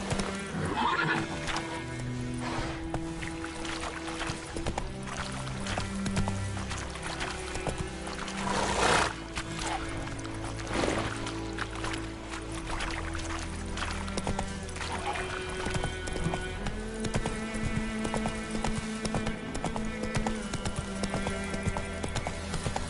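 Roach, a horse in The Witcher III, gallops with steady clip-clop hoofbeats and lets out loud whinnies, all set under a continuous orchestral music score.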